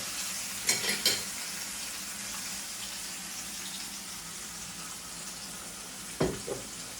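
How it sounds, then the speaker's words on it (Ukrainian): Steady hiss of fish roe cutlets frying in a pan, with a couple of brief clinks and scrapes from stirring, no talking. "Жарим, смажимо наші котлетки ікрині"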